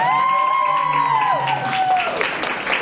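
Crowd applause at a business seminar, with scattered claps and crowd noise rising beneath a long drawn-out vocal whoop that fades partway through.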